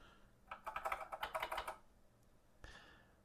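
Keys on an Atari 800 computer keyboard being pressed in a quick run of about a dozen close, crisp clicks, then a pause and one more key press, no talking.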